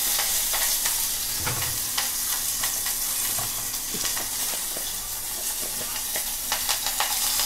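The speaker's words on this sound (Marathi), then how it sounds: "आता फोडणीत फक्त आपण टाकतलो कढीपत्तो" Curry leaves hit hot oil in a heated pot, tempering for a Konkan-style dal, with a loud continuous sizzle full of sharp crackles and spitting pops throughout.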